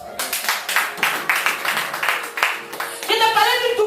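Church congregation applauding in bursts of clapping through a loud, reverberant room, with a sermon voice over the top and music rising near the end.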